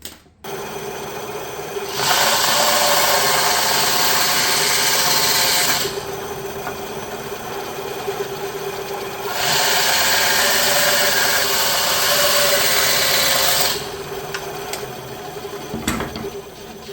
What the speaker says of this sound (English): we're going to cut on each side here about an 1/8 inch sliver off